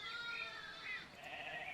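Sheep bleat in a children's animated picture-book story about three little sheep on a farm, a soft wavering cry repeated a couple of times, faint and unaccompanied by speech.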